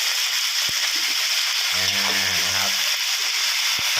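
Kale leaves stir-fry in a hot pan with salted fish and minced pork, giving a constant close sizzle while a voice briefly speaks over it.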